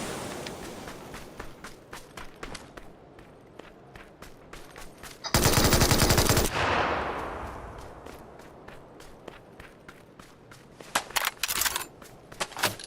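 PUBG video game gunfire cracks in rapid bursts and single shots, with one long sustained burst of automatic fire near the middle, followed by fading echo and more scattered shots.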